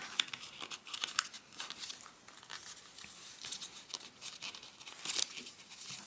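Sheets of paper being folded and creased into an origami penguin, with soft continuous crinkling and a few sharper crackles, close and fairly quiet, no talking.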